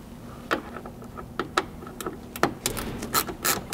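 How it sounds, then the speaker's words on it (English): A T30 Torx driver loosens fasteners to free a backup camera from the rear hatch of a Toyota Land Cruiser 200 Series or Lexus LX 570, giving scattered close ratcheting clicks and metallic taps that grow busier toward the end. "the camera can be removed from the hatch using a T30 Torx"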